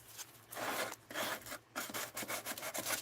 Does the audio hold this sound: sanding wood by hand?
yes